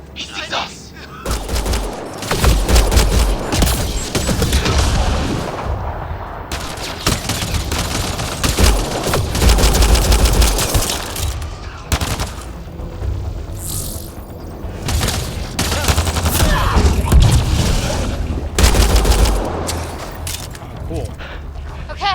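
Rapid bursts of gunfire and booming shots rattle through a firefight in the sci-fi game Mass Effect Andromeda, loud and near, with voices shouting over the shooting.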